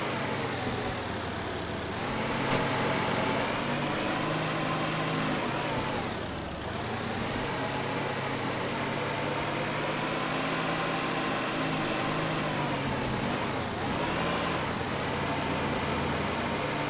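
An old car with a badly worn exhaust idling in the Car Dealer Simulator video game, a continuous rough engine drone with a few brief dips in revs, steady and alone.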